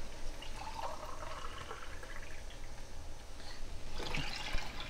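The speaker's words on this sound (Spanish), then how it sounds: "vamos a agregar 2 tazas de agüita" Two cups of water poured into a pot of rice while cooking, a steady liquid splashing and trickling that swells louder near the end, with no talking.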